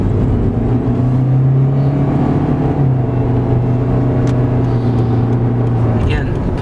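A Scion iQ small car climbs a hill under acceleration, its engine holding a steady droning hum with a pitch shift partway through, loud and close from inside the cabin; a voice talks over it.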